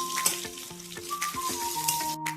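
Ginger frying in oil, with cumin and coriander powder for a vegetable dish, gives a steady close sizzle with occasional stirring scrapes, under a faint tonal hum in the background and no speech.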